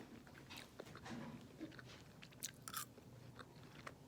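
Close, crunchy bites and chewing of a crispy Parmesan potato from a hospital dinner, a quiet run of irregular crisp crackles and mouth sounds.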